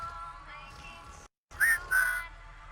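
Two short whistled tones are blown into a computer microphone in the game Wasteland 3, each a clear rising then level note, heard close and alone after a brief silence over a low ambient hum.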